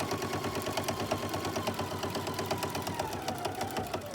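A Husqvarna Viking sewing machine sews binding onto a quilt with a steady, rapid, close-up stitching rhythm that continues without a break and with no talking.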